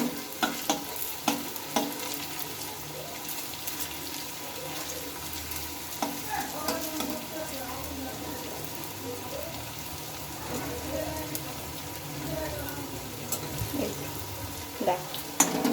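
Pointed gourd and green banana fritters bubble and spit in oil, a steady moderate sizzle with small pops and occasional clinks of a utensil.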